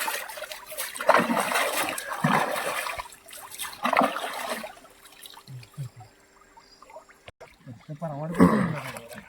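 Water of the Krishna River at the riverbank, heard as uneven splashing and trickling bursts of moderate loudness, with a quieter stretch in the middle and a sharper splash near the end.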